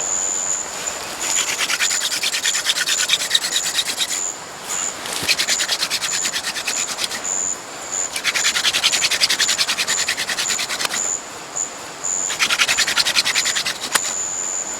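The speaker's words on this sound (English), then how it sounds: "When I drill, a powder will collect and that will eventually start to glow." A wooden fire drill spun fast against a hearth board in a jungle camp, a steady raspy rubbing in long bursts with short pauses between spins, close and fairly loud.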